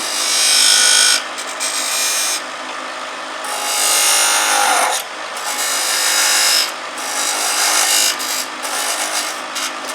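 A thin parting tool cuts a straight tenon in spinning wood on a lathe, giving a loud, rasping scrape that comes in several sustained bursts with brief pauses between them.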